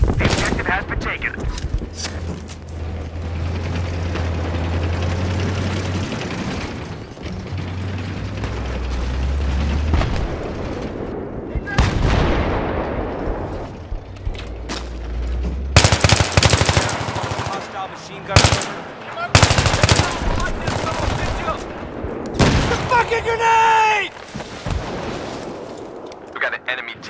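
Machine gun fire in the video game Battlefield 3 on Tehran Highway comes in heavy bursts mixed with loud explosions and booms, with rumbling vehicles and radio chatter in between.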